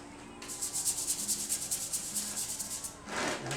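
Abrasive pad scuffing a Ford ZF Fairlane drive shaft ahead of two-pack silver epoxy paint, heard as steady close rhythmic rubbing strokes, with a brief harsher scrape near the end.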